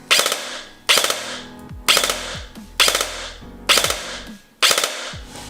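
Classic Army M4 DT-4 double-barrel airsoft electric gun with twin pistons firing in burst mode, six loud, evenly spaced cracking bursts close up, each with a quick mechanical rattle and short decay.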